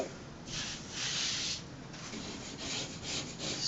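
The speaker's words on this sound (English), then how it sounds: "Scrape off any little bumps." A wall being scraped or sanded smooth by hand before a peel and stick mural goes up, soft rhythmic rubbing strokes close by, fairly quiet.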